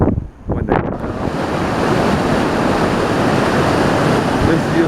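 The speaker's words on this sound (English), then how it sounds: "This is Yosemite Creek" Yosemite Creek runs just above Yosemite Falls on the north rim as a constant broadband rush of flowing water, with a brief uneven start and then a steady roar mixed with wind.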